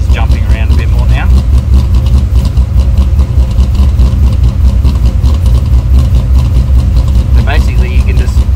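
An LS V8 running a ghost cam tune on a Haltech Nexus ECU idles with a loud, steady low rumble and a slightly surging, uneven idle while someone talks over it.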